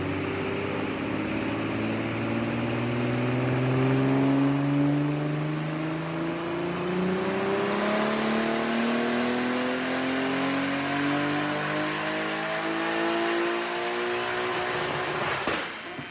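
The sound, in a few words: loud BMW turbo car engine revving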